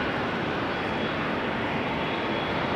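A fixed-wing aircraft taxiing toward the runway at rainy Amsterdam Schiphol Airport, heard as a constant, broad, hissing engine roar at moderate distance, steady and unbroken throughout.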